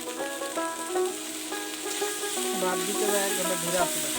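Cold rice with spices and egg is stir-fried in a pan for a Bangladeshi fried rice, giving a close, steady sizzle with scraping and stirring clatter.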